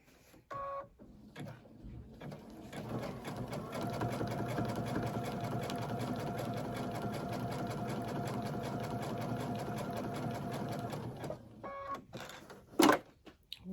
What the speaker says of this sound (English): And I'm going to start sewing here. And we are sewing on the Dream Machine today.